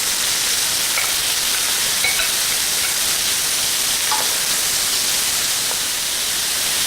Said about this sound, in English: Now we are going to add cabbage to cook for 1 minute until the cabbage is slightly soft.